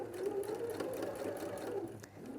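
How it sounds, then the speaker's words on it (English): A sewing machine runs a continuous stitch along a quarter-inch seam on a quilted fabric panel, a steady close whirring hum with fast rhythmic needle ticking, no talk. "I'm going to take it to the machine and I'm just going to stitch along this line here"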